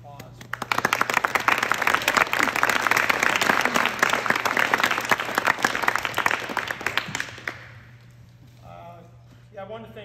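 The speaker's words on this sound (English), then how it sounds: "So, round of applause." Parents and players applaud at a youth soccer awards gathering, a dense burst of clapping lasting about seven seconds before fading into murmuring voices.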